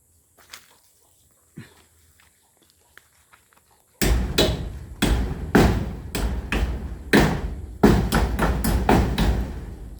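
Hammer blows while fitting netting to a new pig pen: a quiet start with a few light taps, then a run of loud, close, sharp strikes in an irregular rhythm, with no talking.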